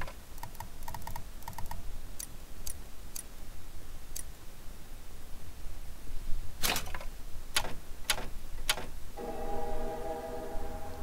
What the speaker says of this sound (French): Clavier souris.